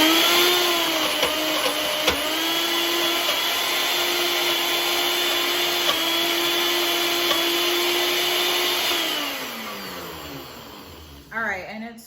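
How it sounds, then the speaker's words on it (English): A countertop blender purées hummus with a steady, loud motor whine that runs for several seconds, then winds down and stops, followed by a few faint clunks. "I'm gonna go ahead and mix it up one more time. All right, so one more blend."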